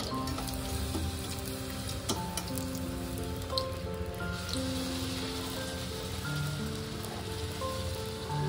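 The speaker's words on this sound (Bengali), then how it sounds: "এখন লুচিগুলো ভেজে নিই।" Luchi deep-frying in hot oil gives a steady, dense sizzle and crackle that runs evenly through the whole stretch at moderate loudness, with no voices.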